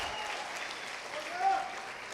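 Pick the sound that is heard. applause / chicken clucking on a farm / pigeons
applause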